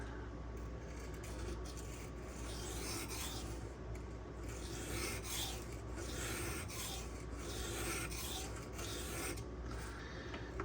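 A Spyderco Sage 5 knife with Rex121 steel is ground against a sharpening stone, giving a steady, continuous raspy rubbing that runs evenly throughout, fairly quiet and close.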